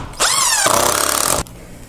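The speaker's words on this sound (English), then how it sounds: "make sure that, again, that you pre-drill so that you don't split your wood" A power drill pre-drills a pilot hole in wood for a door hinge screw, giving one loud rising whine that holds steady for about a second and stops abruptly, with no talk.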